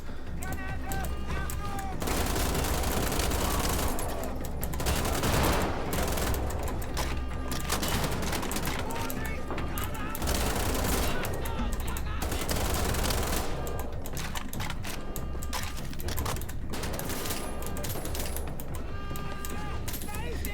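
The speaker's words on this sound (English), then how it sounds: "Oh wow, these are the quietest guns in the world." Suppressed guns firing during a firefight in Wolfenstein: The Old Blood, with continuous bursts of muffled shots and heavy impacts that rise and fall over about twenty seconds, while a voice talks over the shooting.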